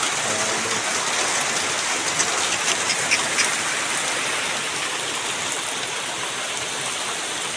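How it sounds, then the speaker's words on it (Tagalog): Heavy typhoon rain pours steadily on Burias Island, a dense, loud, continuous hiss with scattered drops pattering on nearby surfaces. "Lumakas na yung ulan."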